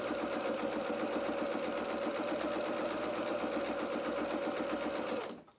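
A sewing machine stitches steadily along the length of a bodice band seam, its rapid needle chatter running continuously and close for about five seconds before cutting off.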